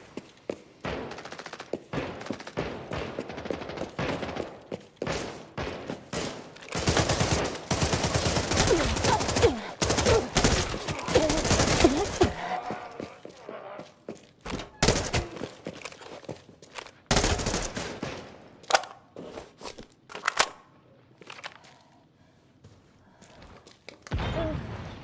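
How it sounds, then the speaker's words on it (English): Bursts of MP5 and RPK automatic gunfire in the shooter Arena Breakout Infinite, with loud rapid volleys in clusters, some close and some more distant, alongside footsteps and thuds between them. "Is that an MP5 and an RPK?"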